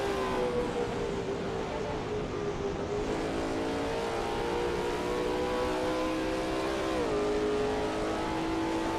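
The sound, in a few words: Lola T70 MkII Spyder race car engine, racing video game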